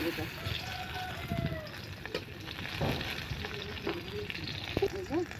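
Onions for a fish curry sizzle and fry in a pan, a steady hiss with occasional stirring clinks, under someone talking nearby.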